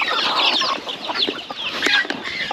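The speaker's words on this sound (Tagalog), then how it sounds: "Dito naman yung ating broiler chicken" Broiler chickens on a farm cluck and squawk in a busy overlapping chorus, close and lively, with several birds calling at once through the short stretch.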